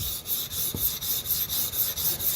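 Sabatier paring knife ground on a 320 grit Shapton whetstone, a steady close rhythmic rasping scrape repeating about every quarter second, with no talking.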